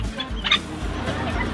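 A black retinta hen at a poultry breeding farm gives a few soft, close clucks over a low background hum.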